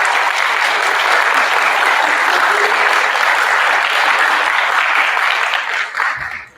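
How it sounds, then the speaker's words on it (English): Enthusiastic audience applause for teachers at a fifth-grade awards assembly, a loud, full wash of clapping from a crowded room that holds steady, then tapers off abruptly at the end. "So how about a round of applause for our teachers?"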